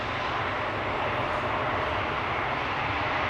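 An airliner landing at Schiphol Airport, heard as a steady, loud broadband jet roar that holds even throughout with no voices.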